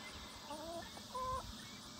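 A chicken gives two short clucking calls, faint and somewhat distant, against a steady low background hum indoors.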